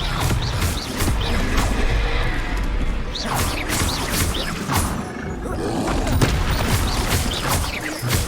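Spells such as Confringo, Bombarda and Expelliarmus are cast in a dense Hogwarts Legacy battle, with overlapping blasts, crackling impacts and roaring creature sounds that form a loud, continuous barrage.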